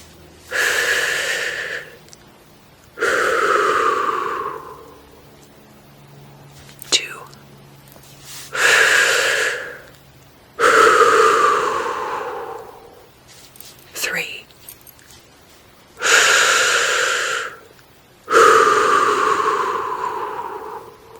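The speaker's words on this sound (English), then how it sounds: "We're going to take 3 breaths." Slow, deep breaths taken during a guided breathing exercise, each long airy inhale and exhale close to the microphone, repeated about six times with quiet pauses between them.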